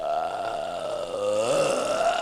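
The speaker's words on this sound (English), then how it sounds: "then she burps for a very long time" A woman in the 2008 film Disaster Movie lets out one long, loud, continuous burp that wavers in pitch and ends abruptly.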